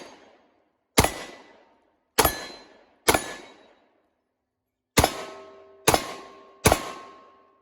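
Seven sharp, loud shots from a Ruger SR1911 10mm pistol fired at steel plates, irregularly spaced, each with a quick decaying echo and a faint metallic ring on the later hits.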